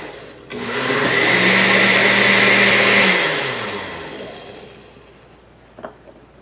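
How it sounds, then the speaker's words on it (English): A countertop blender whirs through a kefir drink, loud and steady for about three seconds with a rising motor tone, then winding down and fading out, followed by a small clink. "So I'm just going to pour this in the blender."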